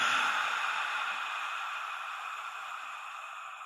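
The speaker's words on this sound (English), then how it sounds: "and an 8-second long exhale" Close up, a long, slow exhale for 4-7-8 breathing flows out as a steady, breathy rush that fades gradually over several seconds, with no talking.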